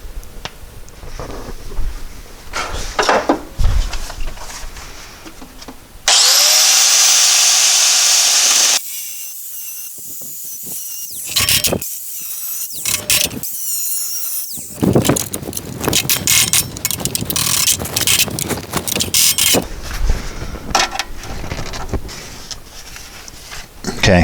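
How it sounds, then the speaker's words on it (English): An angle grinder with a cutoff wheel cuts Porsche 912 body metal during front-end rust repair. A loud, harsh whine runs for a few seconds, followed by choppy bursts, with workshop clatter and noise throughout. "So let me get the grinder and the cutoff wheel"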